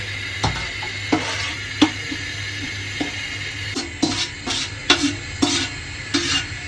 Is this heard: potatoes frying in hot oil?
yes